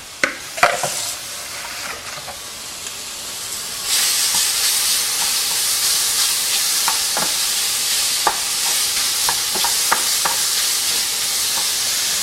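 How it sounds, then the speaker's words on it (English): Marinated beef hits a hot pan of browned onions, so a soft sizzle swells into a loud, steady hiss. Sharp scrapes and clatters of stirring break through the hiss at intervals, and nobody speaks. "then it's time for my marinated beef. We'll add that right to the pan"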